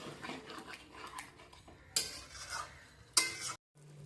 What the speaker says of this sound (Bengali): মিডিয়াম টু হাই ফ্লেমে দিয়ে ভালো করে আমি মাংসটা কষিয়ে নিচ্ছি